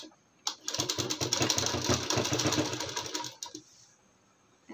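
A sewing machine runs a single burst of about three seconds, stitching a folded palazzo hem, with a fast rhythmic chattering whir that starts abruptly and stops cleanly, leaving quiet room tone.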